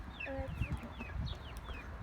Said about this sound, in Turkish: şu anda dışarıda 3 tane tavuk var